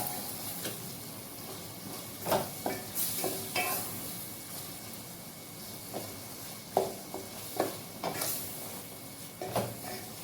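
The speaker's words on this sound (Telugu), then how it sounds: "ఇది బాగా ఫ్రై చేసేసుకోవాలి." Mushrooms frying in a pan with spice powder, a steady low sizzle under irregular scraping stirs and light knocks of the spatula, close and moderately loud, no voices.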